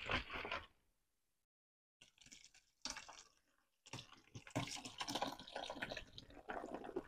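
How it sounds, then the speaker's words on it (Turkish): Homemade wine must, made with natural yeast, pours from a container through a tulle strainer, giving splashing liquid bursts broken by a short silent gap, then steady trickling and pouring that lasts to the end. "Şöyle bir kap ve tül süzek direkt boşaltıyoruz ve süzüyoruz"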